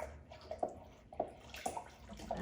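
Two cups of hot water pour and splash for bread dough, faint and close, with soft irregular sloshing and gurgling pulses.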